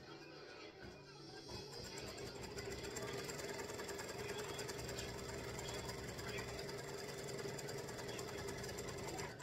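A sewing machine that has been misbehaving stitches small squares onto deco mesh, a steady rapid mechanical chatter that gets louder after the first second and runs continuously close by.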